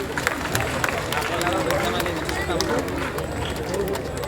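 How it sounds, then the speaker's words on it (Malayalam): An audience claps and cheers at an anniversary stage event, a dense patter of applause with crowd murmur running throughout, fairly close and steady. "ഒരു നിറഞ്ഞ ഒരു കൈയടി."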